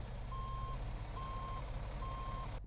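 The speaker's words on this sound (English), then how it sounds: "the driver of the bus turned on his rear tail lights and began to attempt to back into us" A bus backing up sounds three evenly spaced electronic reversing beeps over a low engine rumble, with a sharp knock just at the end.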